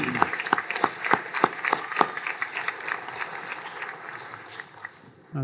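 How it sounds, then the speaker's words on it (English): A fall graduation ceremony audience applauds award nominees, with sparse, distinct claps standing out early before settling into a thinner, steady patter that fades away. "Please give a warm round of applause"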